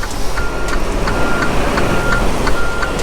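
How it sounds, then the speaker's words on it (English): Steady reversing beeps repeat about every third of a second from a truck backing up at a loading dock, loud and close over a rumbling idling engine. "Come on, truck. Back up."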